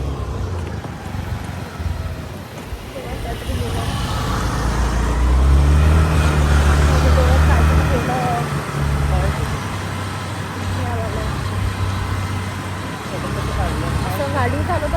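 A car driving on a road through a work zone, a steady engine and road rumble that swells midway as heavier traffic passes, with people talking over it.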